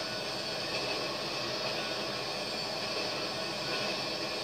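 A train in GTA 5 rolls past as a steady, dense rumble and hiss that stays loud and unbroken for several seconds, with no speech.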